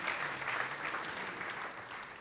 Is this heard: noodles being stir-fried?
no